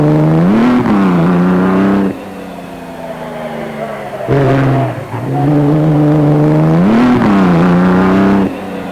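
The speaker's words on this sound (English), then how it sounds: "Whitney Straight can be seen here at the wheel of his ex-Birkin Maserati, featuring a twin rear wheel setup." A pre-war ex-Birkin Maserati racing car with a twin rear wheel setup roars up a hill climb, loud engine notes rising and falling in repeated revving surges, each dropping away before returning.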